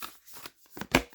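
Tarot cards being shuffled by hand, a few soft, close riffling bursts ending in one sharper flutter.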